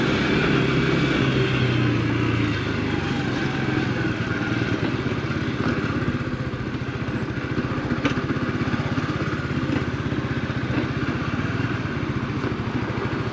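An AJS Tempest Roadster 125 motorcycle rides over cobbles, its small single-cylinder engine droning steadily with a rough, rattling texture throughout.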